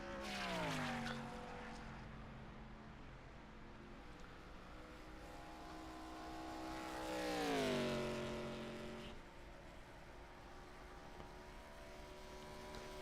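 ARCA race cars in a sim racing video game, heard as faint engine drones that rise and fall in pitch as the cars pass, with a swelling pass near the middle.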